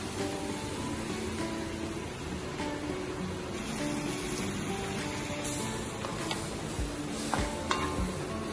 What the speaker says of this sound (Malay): kita akan kacau sampai dia jadi sempurna